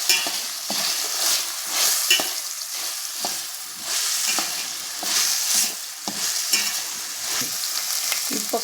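Chopped onion, carrot and beans sauté in a pan for veg fried rice, with a soft sizzle broken by repeated close scraping stirs in an uneven rhythm, and no speech.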